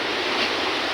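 Surf washing onto a beach in a steady, full roar with no breaks, loud and close, mixed with a little wind.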